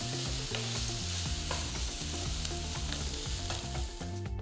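Onions, green chilies and curry leaves fry in a pan with a steady, close sizzle, with occasional stirring clinks and scrapes and no voices.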